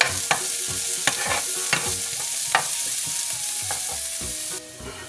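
Garlic and onion sautéing in a pan for chicken macaroni, a steady close sizzle broken by repeated sharp scrapes and taps of a spatula being stirred through the pan, with no talking.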